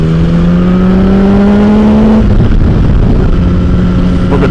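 A 2008 Yamaha R1 motorcycle engine accelerates hard in second gear, its loud continuous whine climbing steadily in pitch for about two seconds before the tone breaks off, then the engine settles back to a lower, steady drone.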